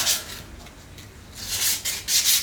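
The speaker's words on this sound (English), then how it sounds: "I'm just gonna sand this down while I wait" Hand sanding of a motorcycle exhaust U-bend for a Honda TMX: rough, scratchy abrasive strokes rub back and forth, louder at the start and the end, close and alone.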